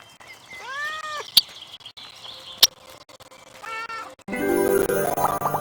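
A cat meows in the video game Little Misfortune, two distinct close meows separated by sharp clicks, followed by a burst of game music and sound effects.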